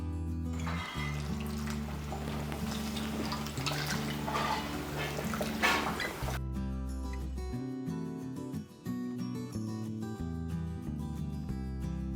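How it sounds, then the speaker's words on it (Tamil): Water is poured into a pot of mutton and potato gravy, a steady rushing splash for about six seconds over tonal background music, which then carries on alone. "இந்த அளவுக்கு தண்ணி ஊற்றினா போதும்."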